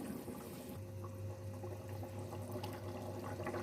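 Water and meat curry (gosht salan) in a pot coming to a boil, a steady low bubbling simmer with a continuous hum, close and fairly quiet, no talk.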